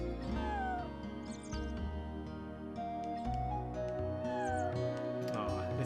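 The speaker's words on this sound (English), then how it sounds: "Aw, it meowed at me." A cat meows twice in the Chrono Cross video game, short high mews heard at a moderate level over the game's soft synth music, with no talk.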